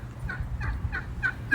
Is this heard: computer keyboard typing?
no